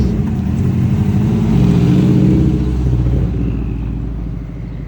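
A Subaru WRX being driven off for transport, its engine rumbling steadily and rising slightly as it pulls away, then fading into the distance.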